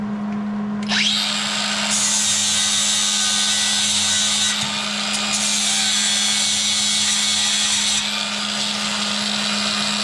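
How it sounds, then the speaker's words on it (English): A handheld grinder works rust off an RC car, its high whine running continuously from about one second in, with a steady low motor hum underneath and brief shifts in pitch as pressure on the metal changes. "Grind her a little bit right there"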